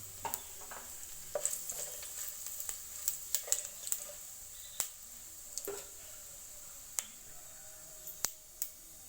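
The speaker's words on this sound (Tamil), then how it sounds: "சூடானதுக்கப்புறம் அதில் வந்து சோம்பு பட்டை பிரிஞ்சி இலை கல்பாசி போட்டுக்கணும்" Fennel, cinnamon, bay leaf and stone flower sizzling in hot oil for manathakkali rasam, a soft steady hiss with scattered sharp pops and crackles, quiet and close, no voices.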